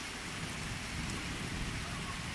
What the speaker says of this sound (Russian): после жарких дней, вот летний ливень.